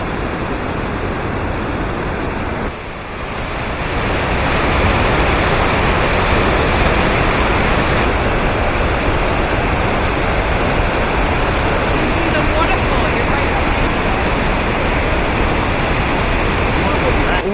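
Steady, loud roar of a waterfall beneath a glacier in Norway crashing nearby, heavy with spray, a dense continuous rush of water with a brief dip near the start.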